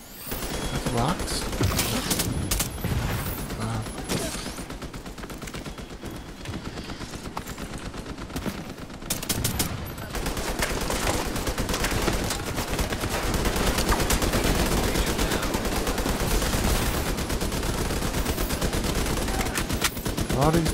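Heavy gunfire in The Division 2 around the Tidal Basin area, dense continuous machine-gun bursts and overlapping shots, loud and close throughout, with a voice talking occasionally.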